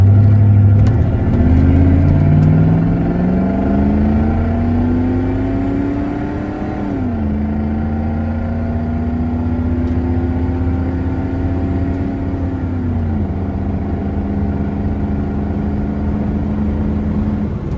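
A car accelerates hard from a standstill at the line, the engine revving up through rising pitch, dropping at gear changes, then climbing again in a long, loud, sustained pull.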